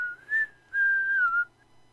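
A paper delivery person in The Sims Bustin' Out whistles a short tune: a brief rising note, a pause, then a longer held wavering note that fades out.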